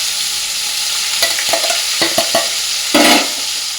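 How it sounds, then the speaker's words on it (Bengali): Whole spices with bay leaf and black pepper, then ginger-garlic paste, sizzle in hot oil: a steady frying hiss with several short bursts and a louder surge near the end, close and with no talk. "তেলের মধ্যে ফোড়নে দেবো তেজপাতা, গোটা গরম মশলা, আর হচ্ছে তোমার গোলমরিচ"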